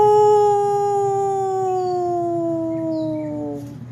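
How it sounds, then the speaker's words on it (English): A wolf or wolfdog gives one long, loud, close howl, a smooth sustained tone that slowly drifts downward and tapers off near the end. "Can you wake up for a quick howl?"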